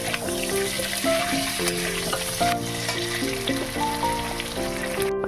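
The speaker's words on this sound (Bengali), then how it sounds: "সামান্য পরিমাণে নুন দিয়ে আমি এবার আলুগুলো ভালো করে ভেজে নেব" Potatoes frying in a pan with a little salt give a steady, close hiss and sizzle, playing under a bright, melodic background music track throughout.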